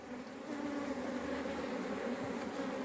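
Honey bees, young workers not yet flying, buzzing on a swelling hive comb, a dense continuous drone at moderate loudness with no voices.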